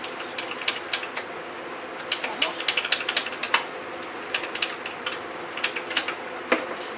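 A ratchet wrench clicks in short, irregular bursts while releasing alternator belt tension on a 1999-2003 Subaru Outback engine. The sharp metallic ticks are close and moderately loud over a faint workshop background.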